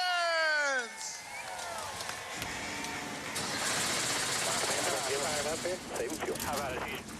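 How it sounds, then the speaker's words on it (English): NASCAR Cup Series race cars at Sonoma fire up after a voice calls out, and several engines rumble and rev loudly together under crowd noise. "Drivers, start your engines!"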